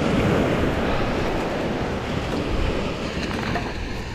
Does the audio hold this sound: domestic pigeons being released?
no